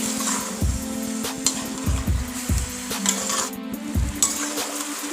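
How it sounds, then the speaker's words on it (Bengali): A spoon scrapes and knocks around a pan of ash gourd murabba as it cooks, a steady sizzle underneath and repeated stirring clinks every second or so, close and alone. "এবার অনবরত নেড়ে ছেড়ে নেব।"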